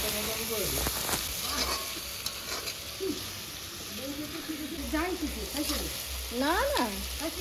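Onions and tomatoes fry together in a pan for crab curry, a constant sizzle and crackle with stirring clinks, while people talk over it throughout.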